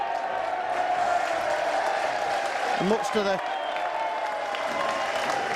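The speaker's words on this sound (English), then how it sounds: "they stand up and applaud the referee for getting the decision correct" Rugby league crowd at a Crusaders versus Warrington match applauding the referee, a sustained wash of clapping and crowd noise running throughout while a commentator speaks briefly over it.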